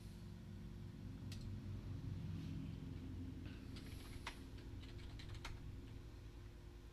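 Rapid clicking of keys on a computer keyboard of a DOS-era computer, uneven in rhythm, heard over a steady low background rumble.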